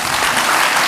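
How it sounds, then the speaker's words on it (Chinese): A seated audience at a Buddhist book launch and forum claps warmly; a short burst of even, continuous applause, loud and full throughout. "我们是不是再次以热烈掌声谢谢两位老师"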